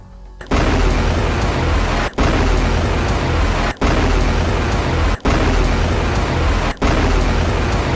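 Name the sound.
barrage of rockets fired at a military base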